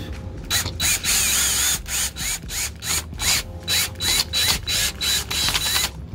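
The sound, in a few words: fastener being tightened during renovation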